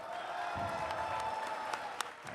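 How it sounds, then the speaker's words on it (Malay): Quiet, steady applause from an audience at TMYC during a relaxed youth podcast gathering in Johor, a soft, distant wash with a few sharper claps standing out near the end. "Orang-orang di TMYC berikan tepukan."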